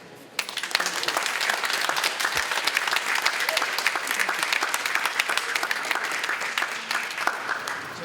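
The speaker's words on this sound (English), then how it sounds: "formally welcome with a nice round of applause all of our new hardworking entrepreneurs" Warm applause at a store-opening ceremony for new shops at Solomon Pond Mall, welcoming new entrepreneurs; a crowd claps continuously, loud and dense, for about eight seconds.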